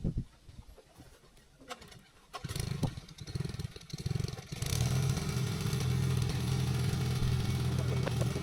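An engine-driven pump drawing water from a pond starts up after a quiet stretch with birds cooing nearby, then settles into a loud, steady droning run.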